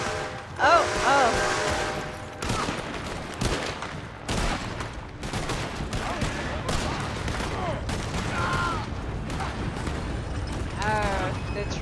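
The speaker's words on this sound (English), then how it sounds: "Gunfire ahead." Rapid bursts of gunfire crackle continuously in a chaotic Red Dead Online video game shootout, loud and close, with shouting voices mixed in over the din.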